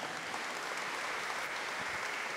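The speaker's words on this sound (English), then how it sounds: "Let us applaud the choir for one final time." A concert audience applauding a sacred-music choir, a steady wash of many hands clapping at moderate distance, unbroken throughout and fairly quiet.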